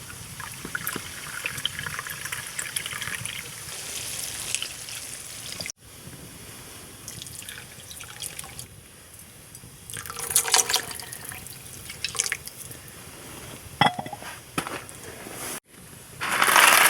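Water is poured from a cup into a pot for hamburger helper beef stroganoff inside a DIY hot tent on a winter overnight trip, trickling and splashing in uneven bursts over a quiet background.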